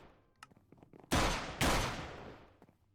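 Two sharp, loud blasts of gunfire go off in a modded Minecraft world, each with a booming decay, against a quiet background of small ticks and clicks.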